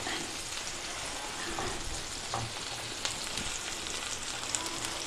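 Mushroom and onion frying in a pan for a mushroom egg omelette, a steady close sizzle with faint stirring scrapes and no voice.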